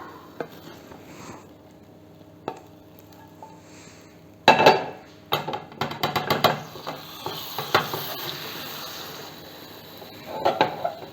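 A pan lid clattering against a pan as it is used to flip a mushroom omelette, a sudden metallic rattle followed by a run of clinks and knocks, then a few softer taps after a quiet stretch of faint sizzling.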